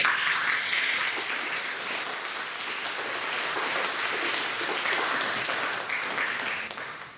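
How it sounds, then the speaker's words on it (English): Audience at a public forum on school diversity breaks into applause, a dense crowd of many clapping hands that holds steady for several seconds and then trails off near the end. "I have asked people not to clap, so I'm not going to ask you not to clap."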